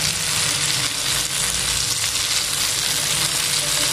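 Chicken frying in a pan gives a steady, dense sizzle that holds close and loud throughout, with no voices over it.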